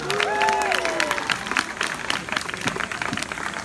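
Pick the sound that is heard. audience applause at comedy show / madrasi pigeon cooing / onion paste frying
audience applause at comedy show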